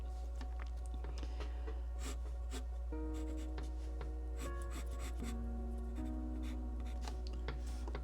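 Pencil scratching across comic page paper in soft, continuous strokes, close and quiet, with a steady low hum and faint tones in the background.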